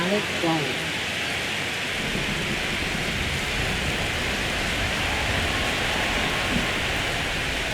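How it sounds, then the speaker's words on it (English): Steady rain hisses across a stadium during a baseball game in MLB The Show 25, a dense even wash of falling drops with low rumbling underneath and commentary voices faintly present. "This rain is not letting up."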